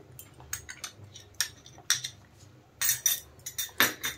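A spoon stirs turmeric powder into water in a bowl for vegetarian khichdi, giving a run of light metallic clinks and scrapes against the bowl in irregular bursts, close and fairly quiet.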